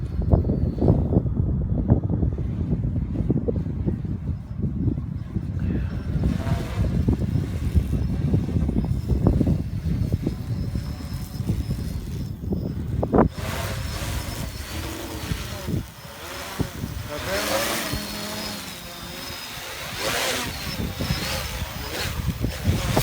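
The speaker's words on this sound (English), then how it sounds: "it's extremely heavy wind" Extremely heavy wind buffets a microphone outdoors during a cold drone test, a loud rumbling roar with gusty swells that grows harsher and brighter in the second half.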